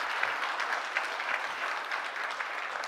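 Steady applause from a keynote audience at a HealthifyMe Ignite 2020 conference, dense even clapping that fills the hall at moderate distance with no voices on top.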